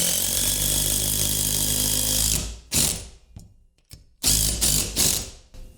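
Steady ratcheting of a wrench tightening a bolt for a TV wall bracket. A long run of fast clicking is followed by several shorter bursts with pauses between them, close and loud, with no talking.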